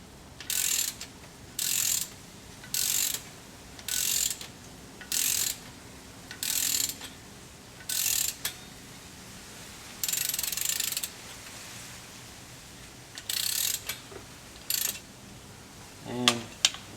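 A ratchet tightens valve cover nuts on a 1993 Honda Civic DX, giving repeated short bursts of quick clicking in a steady stop-start rhythm, close and fairly loud, with a faint clunk near the end.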